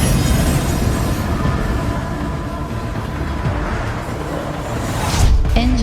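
Colossal trains plough through a post-apocalyptic wasteland in the video game EngineFall, a steady heavy rumble and clatter of rolling rail cars that swells near the end with a sharp metallic squeal.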